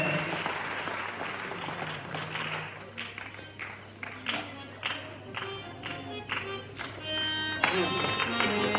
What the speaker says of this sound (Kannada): ಜೋರಾದ ಮತ್ತೊಂದು ಸಾರಿ ಚಪ್ಪಾಳೆ